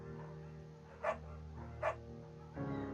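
A beagle in the video game Firewatch gives two short barks about a second apart, fairly faint and distant over a steady low ambient hum.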